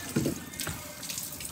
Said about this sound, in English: if we pour a bit of water down the back of the glass